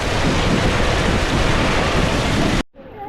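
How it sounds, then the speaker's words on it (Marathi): Heavy rain pours down in a Konkan market during a thunderstorm, a loud, dense, steady roar that fills the scene and then cuts off abruptly near the end. "भयानक वादळ"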